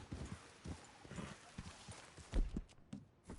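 Horse hooves clip-clopping in a video game, an irregular run of hoofbeats at moderate distance with a few heavier thuds near the end; no speech.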